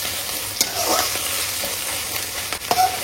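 Fenugreek leaves frying in a generous amount of oil for mutton donne biryani, a steady broadband sizzle with a few stirring scrapes and clinks, close and fairly loud, no voices.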